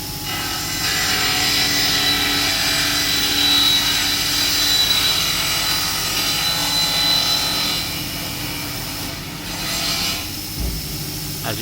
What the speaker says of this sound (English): the Bomar AL400 automatic saw, clamping down, running some aluminium